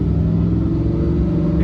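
A 2019 Lamborghini Huracan Performante's V10 engine warms up, giving a loud, steady low rumble close by with no voices.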